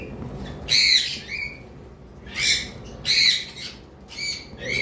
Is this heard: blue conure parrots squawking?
yes